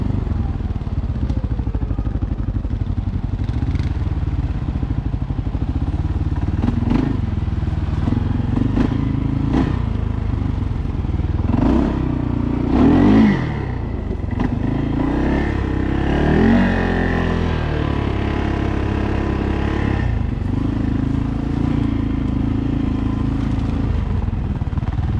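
A 2025 CFmoto CForce 600 ATV fitted with an RNG full clutch kit is ridden along a trail. Its engine drones steadily and close throughout, with rising revs, clatter and thumps from the rough ground.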